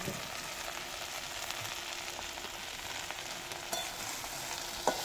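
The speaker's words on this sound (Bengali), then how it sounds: "পাট শাকগুলো কুচিয়ে ধুয়ে কুচিয়ে ধুয়ে রেখেছিলাম এই পাট শাকগুলো দিয়ে দিচ্ছি" Chopped, washed jute leaves added to a pan of frying food with a steady, quiet sizzle and crackle, punctuated by a few soft stirring clicks.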